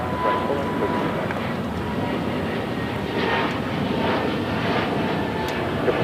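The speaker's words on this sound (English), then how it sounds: "as that JetBlue A220 taken off" A JetBlue Airbus A220-300 takes off from runway 25 Right at LAX, its engines making a loud, steady broadband roar that holds throughout with no voices over it.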